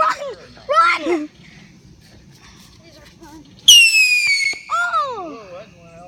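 Fireworks burst at a firework show, with sharp pops early on and a loud whistling, screaming shell rising near the end, while children chatter and squeal in between.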